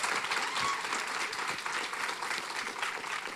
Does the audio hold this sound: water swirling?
no